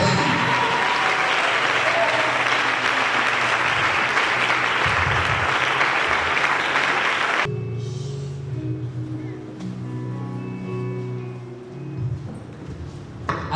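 A church congregation bursts into loud, sustained applause for about seven seconds, then it cuts off and a voice speaks over a quieter room with faint background music.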